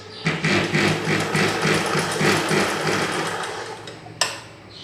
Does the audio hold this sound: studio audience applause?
no